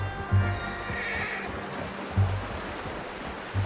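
A horse gives low snorts and a brief whinny in the video game Red Dead Redemption 2, set against a steady rush of flowing water or ambient outdoor noise.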